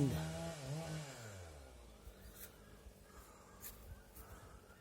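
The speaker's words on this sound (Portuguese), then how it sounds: "A motosserra tá fazendo uma poda na lavoura e fica esse barulho" A chainsaw pruning in farm crop fields revs with a rising and falling whine at first, then settles into a faint, distant buzz, heard alone.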